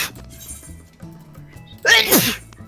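One loud, sudden sneeze bursts out close to the microphone, a sharp breathy blast after a quiet stretch of faint background sounds and soft low tones.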